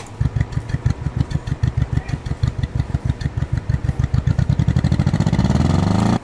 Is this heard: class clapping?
no